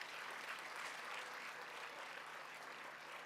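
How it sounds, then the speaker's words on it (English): Steady applause from an audience at a public lecture on thirty years of South Africa's constitution, acknowledging a keynote speaker from the United States; fairly quiet and distant, an even wash of clapping with no voices. "Can we also give him another round of applause?"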